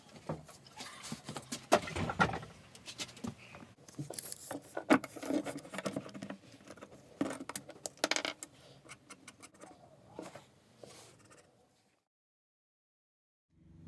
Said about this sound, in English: I've got this threaded rod that I'm going to cut to size now